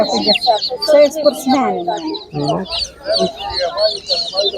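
Chickens cluck and squawk in a busy Ukrainian animal market, close and lively, with overlapping calls in quick bursts and people talking in the background.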